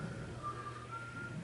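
A person whistles faintly during a math lesson, giving a thin sustained high tone that wavers slightly, low in level over a steady background hum, with no talking.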